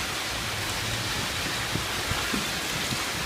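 Water splashing and pouring down onto a Little Tikes Rocky Mountain River Race inflatable water slide, a steady hissing wash of spray like rain that continues throughout with a few louder splashes and no talk.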